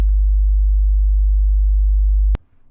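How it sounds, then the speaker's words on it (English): A loud, pure 50 Hz sine test tone hums steadily for over two seconds, then stops abruptly with a click, leaving faint room noise. "So here's 50 Hz"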